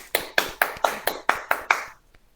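Audience applause in a seminar hall after a presenter's business talk, heard as about seven sharp, evenly spaced clap bursts, fairly close and clear, ending abruptly with faint trailing taps.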